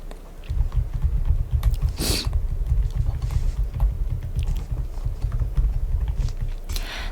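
Fingers tap quickly on a computer keyboard, a close, continuous patter of soft clicks over a low background rumble, with a couple of sharper, louder keystrokes standing out.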